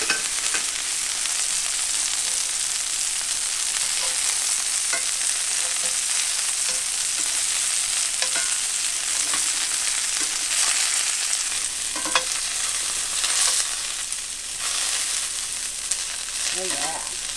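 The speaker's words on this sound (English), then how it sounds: "I put a little avocado oil in there. We're going to leave them on each side for about a minute or two to try and get a nice crust." Meatballs sear in avocado oil in a hot pan, a steady loud sizzle and crackle with occasional pops and spits that runs unbroken throughout, with no voices.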